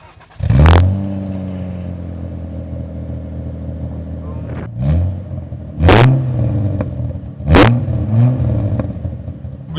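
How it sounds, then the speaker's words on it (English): An old sports car with a manual gearbox, driven and revved, with three or four sharp loud engine revs that swell and fall between steady running engine drone, close up and heard alone. "James is going to take us for a ride in his car."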